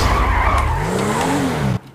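A car skidding in the video game GTA V, a loud sustained tire squeal with engine whine sliding in pitch for nearly two seconds, then cutting off abruptly into quiet.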